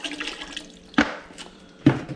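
Salty seawater straight from the ocean pours into a pot for steaming mud crabs, sloshing and splashing in a few close bursts with quieter trickling between.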